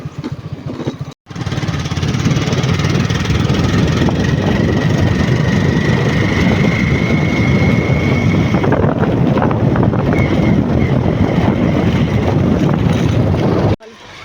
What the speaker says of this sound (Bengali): কিন্তু পলাশ বাইকে করে আমাদের নিয়ে আসছে